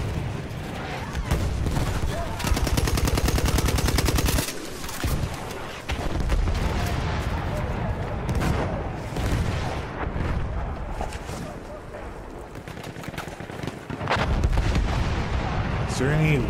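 Rapid explosive blasts and gunfire from an action video game, dense and continuous over a booming low rumble, with a heavy burst early on and players talking underneath.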